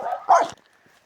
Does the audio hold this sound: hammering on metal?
no